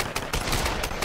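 Semi-automatic gunfire in the Tomb Raider video game: a rapid burst of several sharp shots in quick succession, loud and dense, with no talking.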